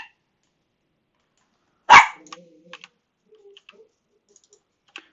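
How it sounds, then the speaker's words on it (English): A guard dog gives one sharp, loud bark some distance off, then falls silent. Scattered soft clicks of computer keyboard typing follow in a quiet room. "There's my guard dogs."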